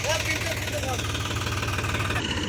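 A Massey Ferguson 254 DynaSmart 4wd tractor stuck in deep mud runs with a steady, rumbling diesel drone and a knocking pulse, close and continuous throughout.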